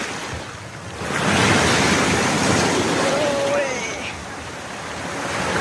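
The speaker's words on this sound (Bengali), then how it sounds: "সেই লেভেলের ঢেউ। দেখো ঢেউটা দেখো।" Ocean waves wash in broad surges onto a beach, a steady roar that swells louder after the first second and stays full, with wind noise over it and no talk.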